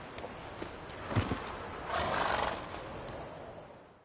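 Roach, the horse in the video game Witcher 3, neighs with a brief whinny and hoof sounds around a second in, then a longer, louder rush of galloping noise that fades toward the end.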